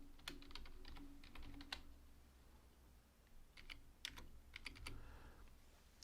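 Quick bursts of typing on a computer keyboard while entering a username for a new Gmail account, close and fairly soft, with clusters of key clicks separated by short pauses and no voices.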